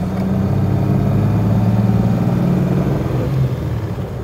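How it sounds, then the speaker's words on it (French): A 1965 Mercedes 220 SE Coupe with a four-speed manual gearbox runs steadily up close. Its engine drone is loud and continuous, with a brief change in pitch near the end. "les rapports passent bien. Donc boîte mécanique, 4 rapports"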